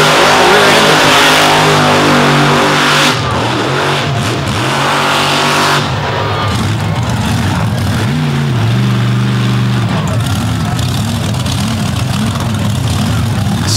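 A monster truck engine roars loudly at a competition event in Brooksville, revving hard and wavering in pitch as the truck spins a donut, then settling into a rough, throbbing rumble that continues steadily.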